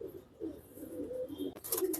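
Male pigeon cooing softly and steadily nearby, low throaty coos rolling on without pause, with a brief burst of bright rustling or flutter near the end.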